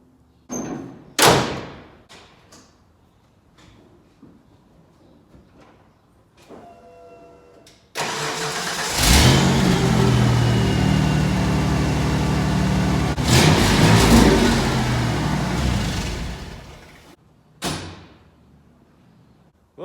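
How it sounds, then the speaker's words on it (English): A Ford OBS truck's 4.9L inline-six (300) with a freshly installed starter cranks after a few clicks and thumps, then fires and idles loudly for several seconds before shutting off, with a couple of brief knocks afterward. "turn the truck over,"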